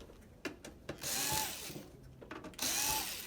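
Screws being backed out of a PS4 console during a repair, giving brief ratcheting clicks followed by two longer bursts of whirring driver noise at close range, with no talking.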